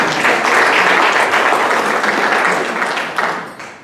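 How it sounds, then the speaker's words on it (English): Loud, dense applause from an audience at a county community event, sustained steadily for several seconds before tapering off, with no talking over it. "Everybody will applaud."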